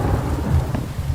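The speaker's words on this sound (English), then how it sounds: "Sorry for the thunder" Deep thunder rumbles through a heavy rainstorm, a loud low roll lasting the whole moment over the steady hiss of rain, with no voices.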